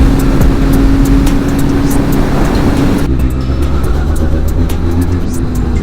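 Benelli 502C motorcycle on its stock exhaust, a loud, steady, deep muffled engine drone running throughout, with a slight drop in tone partway through and no talk over it.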